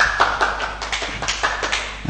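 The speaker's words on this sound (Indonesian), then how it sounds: "Tepuk tangan untuk kita semuanya." A small group claps hands at an indoor gathering, a quick run of crisp, close claps lasting about two seconds.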